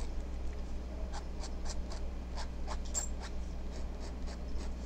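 A dip pen nib cross-hatches on paper, making a quick run of short, faint scratchy strokes in an even rhythm over a low, steady room hum.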